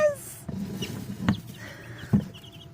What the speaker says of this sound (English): I got some more little chickens.